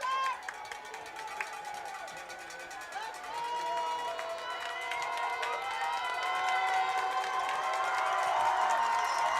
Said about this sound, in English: Beaver crowd on their feet